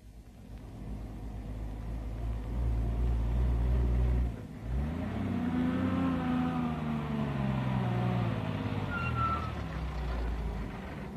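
Military trucks from 1944 rumble loudly as they drive toward machine gun positions, with a steady engine drone, a brief dip, and then the motors working under load as they move on.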